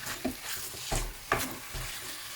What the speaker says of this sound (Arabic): وكنشحروا على نار تكون قويه باش ما يقطعش يعني يطيب